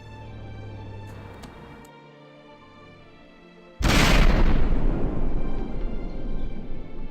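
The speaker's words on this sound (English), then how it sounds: "explosion noise, adequate" An explosion booms in a boat video game: a quiet humming stretch and a low drone give way to a sudden loud blast whose rumbling, crackling tail carries on to the end.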